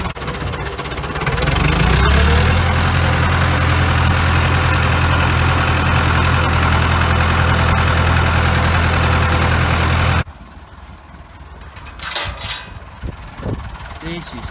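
A tractor engine rumbles at a steady, loud idle close by for about ten seconds, then cuts to a quieter scene with faint knocks and background noise.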